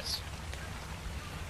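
Steady rain in the game Ark: Survival Evolved patters continuously at moderate volume inside a hut, a soft even hiss with no other prominent sounds.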